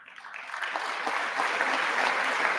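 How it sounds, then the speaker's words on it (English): Sustained audience applause at a presidential State of the Union address, a dense wash of clapping that swells slightly and holds steady throughout, fairly loud and without clear speech on top. "The clapping is too much."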